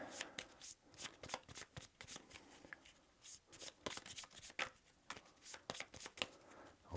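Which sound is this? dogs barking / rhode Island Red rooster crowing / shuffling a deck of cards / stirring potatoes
shuffling a deck of cards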